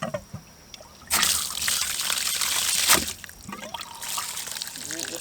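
Water gushes from a newly installed water line pipe as it is flushed, a loud rushing stream that bursts in after a brief quiet start, surges, then eases to a steady trickle and pour.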